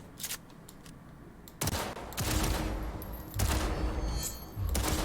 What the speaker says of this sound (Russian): Сейчас будем проходить курс учебной стрельбы.